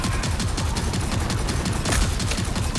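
Dense, rapid gunfire in the video game Rage 2 rattles continuously at close range, with a heavier burst near the end.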